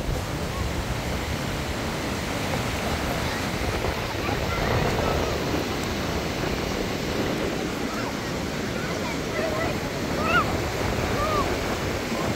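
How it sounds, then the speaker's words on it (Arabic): Sea waves wash onto the beach at Caesarea in a steady, broadband surf roar with wind buffeting the microphone, continuous and fairly loud, with faint voices in the distance. "يلا روحي على البحر، روحي على البحر سالي"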